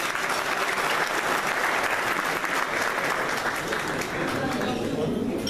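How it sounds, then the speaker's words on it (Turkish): Audience applause for a government minister at an event, a thick, steady roar of many hands clapping in unison, loud and sustained for several seconds. "hem de bir alkış istiyorum"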